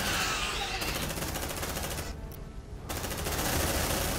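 Suppressive machine-gun fire in Aliens: Dark Descent rattles as a dense, continuous fusillade of rapid shots, loud and close, briefly thinning midway before resuming.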